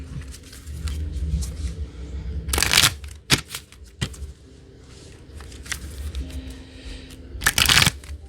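Tarot cards are shuffled in a few quick riffling bursts, close and crisp, with quieter shuffling and soft handling noises between them.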